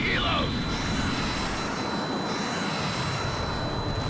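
Continuous loud aircraft engine roar in the H.A.W.X combat game during an enemy helicopter attack, a steady broadband drone with brief high whistling sweeps at the start and speech-like game audio mixed in.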